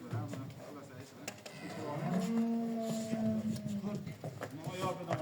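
Cattle at a livestock market give a long, drawn-out moo close by, rising and holding before fading, amid a busy background of crowd murmur and occasional knocks.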